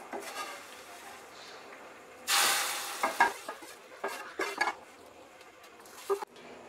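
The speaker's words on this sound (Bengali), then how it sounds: "ভালো করে নেড়ে দিতে হবে, নাহলে কিন্তু সিমুইটা গায়ে লেগে যাবে।" Vermicelli for sheer khurma is stirred in a pan, a soft sizzle underneath with a burst of louder frying and a series of close spoon scrapes and clinks against the metal.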